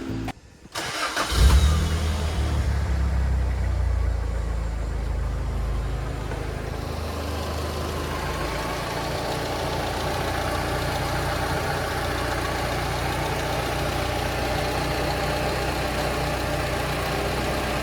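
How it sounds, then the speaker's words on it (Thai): A Toyota KE70 fitted with new spark plugs cranks briefly and fires up, then settles into a steady, even idle that runs close and loud for over fifteen seconds, no talking. "ก็มาลองติดเครื่องแล้วก็ มาดูผลที่ได้กันนะครับ"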